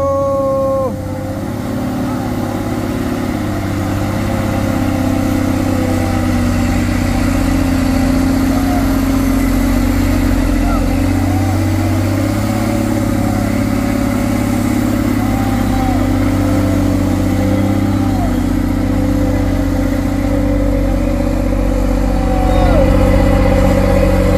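A Mitsubishi Fuso 4x2 trailer truck labours up the steep Bukit Kodok hill, its engine a loud, continuous drone that swells slightly toward the end, with voices audible in the background.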